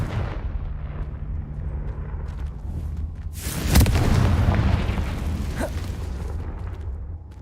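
In the video game Hogwarts Legacy, a Confringo fire spell lands as a loud, booming explosion partway through. The broad blast decays over a couple of seconds above a constant background rumble.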